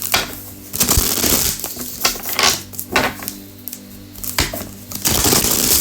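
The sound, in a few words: shuffling tarot cards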